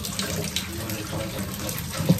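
Water running from a tap into a pan, a steady close splashing flow that continues throughout.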